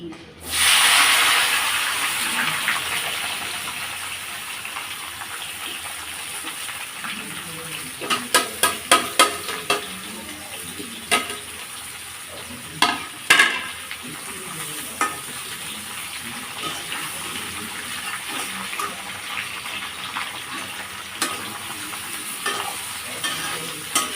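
Mixed vegetables fry in a pan with a steady loud sizzle and hiss, broken by bursts of scraping and clattering as they are stirred, close by.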